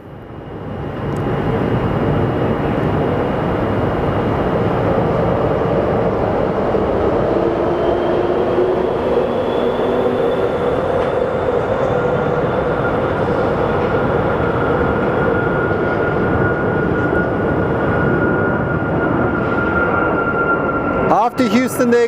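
Airliner in Desert Gold retro livery departing Sky Harbor Airport, bound for Houston, a loud sustained engine roar building quickly and holding steady throughout, with a rising whine and faint voices underneath.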